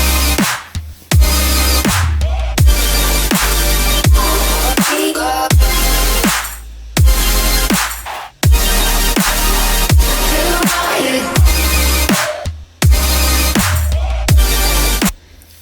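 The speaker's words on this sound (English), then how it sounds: "There's some original vocals and percussion. Sounds like this." A remix's original vocal and percussion parts play back loud and continuous, with repeated sharp hits and short dropouts cutting through dense layered sound.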